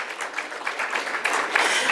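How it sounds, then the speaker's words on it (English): An audience at a public talk on healthcare claps in a short, steady burst of applause that fills the room evenly from start to finish. "you can certainly applaud for that"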